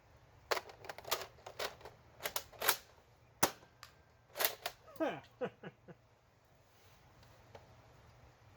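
A toy foam dart blaster fires single shots with stock darts, giving sharp, snappy cracks in irregular bunches with short mechanical clicks between them, close and fairly loud in a quiet room.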